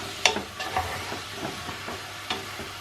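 Onions, ginger, garlic and a little scotch bonnet stirred together in a frying pan, a few scraping stirs and soft clinks over a low steady sizzle, close and fairly quiet.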